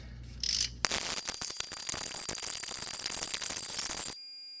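A castle nut is tightened onto a rack and pinion on a Chevy Colorado or GMC Canyon, heard as a rapid series of close metallic ratchet clicks lasting a few seconds before stopping abruptly.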